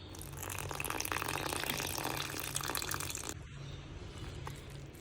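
Water pours steadily into a bowl of dhokla batter mix in a home kitchen, a continuous close splashing stream that eases slightly toward the end.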